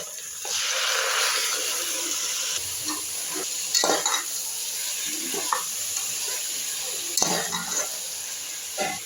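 Onion, green chilli, ginger and tomato sauté in a pot for tomato rice, giving a continuous close sizzle with repeated scraping stirs and clinks of the spoon, and no voices.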